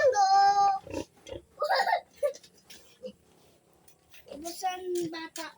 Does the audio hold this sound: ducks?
no